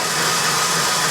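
Stiff meringue egg whites for a key lime pie being beaten with an electric mixer, a steady continuous whirring drone that fills the clip at high level with no pauses.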